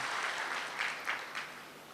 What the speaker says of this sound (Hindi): ताली बजाओ इसमें।